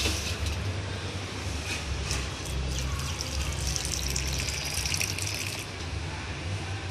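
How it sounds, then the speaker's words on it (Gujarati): Water poured steadily into a plant pot, a continuous rushing splash heard close over low background rumble, with no talk. "આપણે હવે આ કુંડાનું પાણી પાઈ દઈએ"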